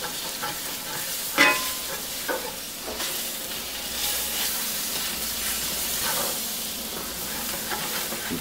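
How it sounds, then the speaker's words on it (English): Flour stirred into melting butter in a pan for a light roux, giving a continuous hissing sizzle with occasional scraping knocks; no talking. "I'm going to make a little bit of a roux."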